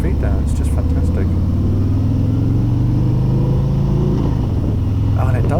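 A Harley-Davidson Road Glide with the 107 engine rumbles along at riding speed, a deep steady throb under rushing wind, with brief bits of a voice over it.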